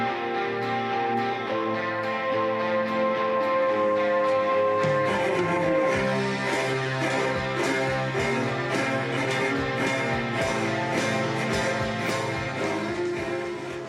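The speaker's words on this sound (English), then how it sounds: "You're listening out for the guitar riff, which is slightly buried under the strings at this point" A 1971 recording: sustained strings swell over a low drone, and from the middle a rhythmic, pulsing guitar riff sits partly buried beneath them.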